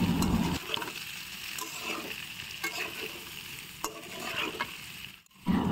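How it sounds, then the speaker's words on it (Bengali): Pointed gourd and steamed potatoes are stirred and fried together in a pan, with a steady sizzle broken by repeated scraping strokes of the spatula, close and fairly loud, with no talking. "এবার দুটো ভালো করে মিক্সড করে নেড়ে চেড়ে ভেজে নিব।"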